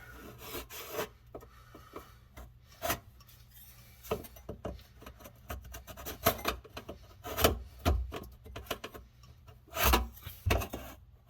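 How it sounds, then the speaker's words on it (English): A hand scraping tool rasps at hard water deposits and old plumber's putty around a sink drain during a garbage disposal install, giving repeated irregular scrapes and gritty rubbing strokes, close and fairly loud, with occasional clinks. "I'm just going to use like a scraping tool and just kind of scrape at it a little bit."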